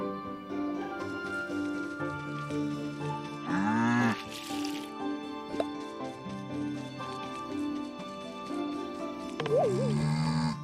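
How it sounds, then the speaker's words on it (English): A cow in the farming game Staxel moos in a few drawn-out, tonal calls over a steady bed of game music, with no talk over them. "Does Comrade Cookie Cow have milk for us?"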